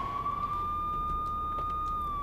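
A police car siren from the video game GTA 3 holds a steady high electronic tone, close and continuous, with faint clicks and game noise underneath.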